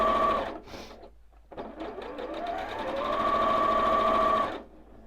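A sewing machine runs close and steady, pausing briefly, as it stitches a quarter-inch seam joining pieces of a Carpenter Star quilt top, with no talking.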